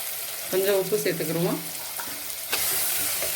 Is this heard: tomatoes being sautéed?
yes